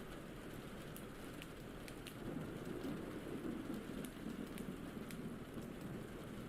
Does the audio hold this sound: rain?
yes